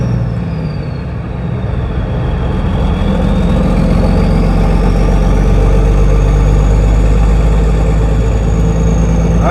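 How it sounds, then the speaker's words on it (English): A car engine with a broken exhaust runs at idle close by, a loud, deep, rough rumble with a rattling, uneven throb that holds steady throughout, with a faint high whine riding above it and no talk. "We were cutting through the yard there and the exhaust started sounding a lot different."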